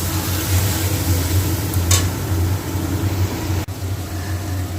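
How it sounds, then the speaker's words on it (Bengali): Ginger, garlic and onion paste sautéed with potatoes in oil while making potoler dorma, a soft sizzle and occasional stirring over a constant low hum, with one sharp tap late on. "দেখো এটাকে একটু ভালো করে কষিয়ে নেবে বন্ধুরা ভালো করে কষিয়ে নেবে"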